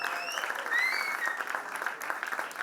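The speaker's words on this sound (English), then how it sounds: "A big round of applause to him." Audience applause and cheering at a music launch event, dense clapping with rising whistles and shouts over it, loud and sustained across the whole stretch.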